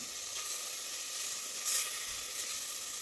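Ginger, garlic and spice powders sautéing in an open pressure cooker for a potato curry, a steady bright hiss of frying throughout with a brief louder swell midway, close and even.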